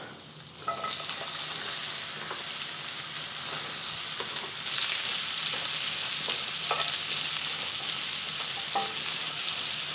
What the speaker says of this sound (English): And we're going to get our onions going.